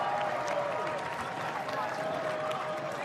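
Home crowd cheering and applauding a try at a Major League Rugby match between the New England Free Jacks and the California Legion, a steady, distant roar under a commentator's voice.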